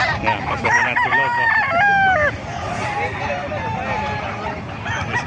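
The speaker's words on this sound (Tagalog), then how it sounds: "May mga manok dito sa Bukawi." Several roosters crow in overlapping cock-a-doodle-doos at a crowded gamefowl gathering in Bocaue, Bulacan, with clucking and a babble of voices underneath as people talk nearby.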